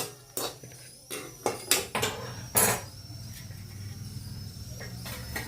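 Roasted coconut, browned red, being scraped out of a pan while preparing Maharashtrian katachi amti: a series of sharp metallic scrapes and clinks in uneven bursts, close and moderately loud, tapering to softer scraping.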